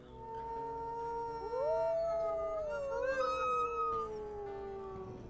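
Wolves in the video game Wildfire Legacy, with loud overlapping howling and whining cries that rise and bend in pitch, sustained over background game ambience, no talk.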